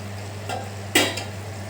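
Curry leaves fry in hot oil for homemade ayurvedic hair oil, giving a few soft, brief crackles and a light stirring scrape over a steady low hum. No one speaks.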